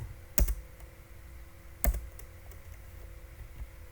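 Two sharp keystrokes clack on a computer keyboard about a second and a half apart, with faint softer taps between them in a quiet room.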